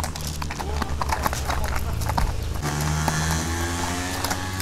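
Horse hooves clip-clop steadily at a Kyrgyz horse market, a rapid rhythmic series of hoofbeats fairly close and loud over background noise, with people talking nearby.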